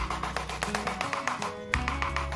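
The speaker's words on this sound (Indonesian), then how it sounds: "Di sini saya mengetuk pot agar media tanamnya padat ke bawah" A young Aglaonema seedling's pot is tapped repeatedly to settle the potting media, a quick series of light knocks in steady rhythm with a brief pause, close and alone.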